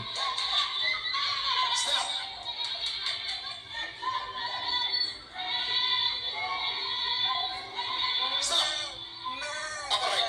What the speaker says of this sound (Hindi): बकरी का आवाज।